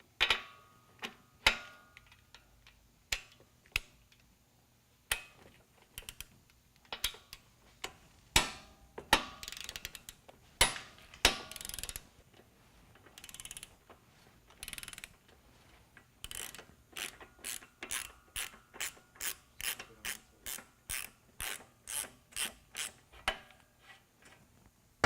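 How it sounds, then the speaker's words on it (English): A ratcheting torque wrench backs off a motorcycle axle bolt, with sharp clicks in bursts that speed up into a rapid, regular series toward the end, close and clear with no talking. "I'm going to use my torque wrench and I'm going to back off the axle bolt"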